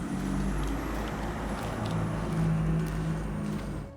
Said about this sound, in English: I apologize for the car noises.